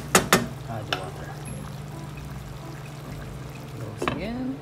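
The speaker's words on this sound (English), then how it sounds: "add water." Hot water pouring into a pot of chicken tinola with a sloshing stream, a few sharp clanks at the start and near the end, faint kitchen sizzle beneath.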